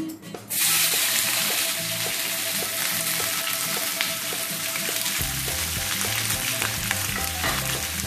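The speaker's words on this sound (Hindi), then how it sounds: "प्याज को हमें थोड़ा सौटे करना है, इसको हमें फ्राई नहीं करना, इसको हम सौटे करेंगे।" Chopped onions drop into about a cup of hot oil in a pan, and a loud, dense sizzle bursts in and holds steady and close throughout, with no voices.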